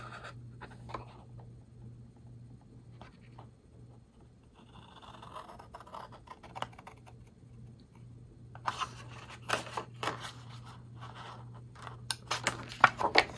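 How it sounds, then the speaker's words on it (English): Scissors cutting up from the bottom of embossed card stock for a holiday cascading card, faint scattered snips and scrapes at first, then a denser run of crisp cutting crunches near and close toward the end, no talking. "take our scissors and we're going to cut up from the bottom"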